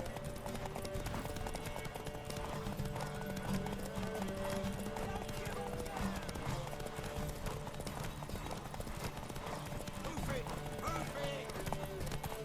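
Horse hooves clip-clop steadily throughout a medieval fantasy scene in The Witcher 3 video game, with the rhythmic hoofbeats mixed under game music and snatches of character dialogue.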